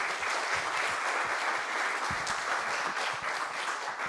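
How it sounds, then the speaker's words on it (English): Steady audience applause at a Trans Pride history panel in DC, a dense wash of many hands clapping continuously throughout, moderately close and with no talk over it. "Can we give them a round of applause, please?"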